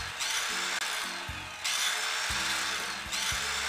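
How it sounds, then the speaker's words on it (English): Power tools run in a hardware setting, a steady loud whirring that cuts in and out in several bursts with thumping starts. "We're on the power tools, people."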